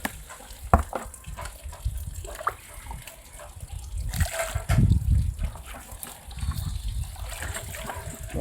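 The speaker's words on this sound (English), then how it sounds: "I think the last batch of the water is what I want to pour in here now." Water is poured through a sieve to sift wolffia plants at a catfish farm, an uneven trickling and splashing that swells and fades, with brief knocks in between.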